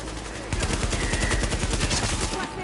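Rapid bursts of automatic gunfire in the video game The Division, loud and close, with dense repeated shots over a steady background rumble and a faint voice underneath.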